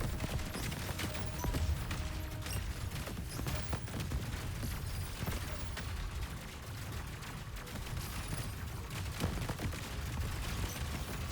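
Steady rapid gunfire from the arcade shooter game Cygni: All Guns Blazing, a dense continuous crackle of shots with scattered sharper bursts running under a constant rumbling game soundtrack, no voices.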